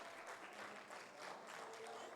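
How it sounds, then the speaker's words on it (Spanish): Faint, distant applause from a conference audience, a soft continuous patter of clapping at low level. "yo quiero aquí pedir un aplauso más grande"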